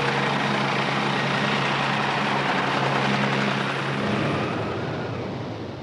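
Helicopter flying over a ship salvage operation in a storm, a steady loud rotor and engine drone with broadband wind and sea noise throughout, fading slightly toward the end.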